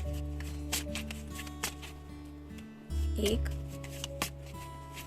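Tarot cards dealt one by one from a shuffled pile onto a surface, giving soft slaps and brief papery flicks against a steady low hum, with a louder cluster of card handling midway.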